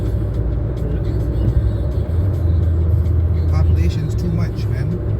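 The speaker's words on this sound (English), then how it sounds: "one thing I don't like about downtown is traffic" Street traffic in downtown Toronto: a steady close rumble of cars and engines passing, continuous and fairly loud, with people talking over it.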